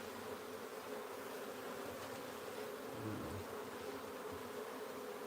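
Bees swarm around a wild hive during a transfer to a new home, their dense, steady buzzing filling the scene close up and continuous with no voices over it.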